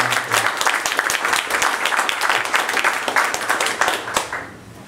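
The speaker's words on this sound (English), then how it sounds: "as you can tell, Jan picked up a round of applause" An audience applauds at the end of a technical talk on distributed random forests, with dense, steady clapping filling the room for several seconds before thinning out and fading near the close.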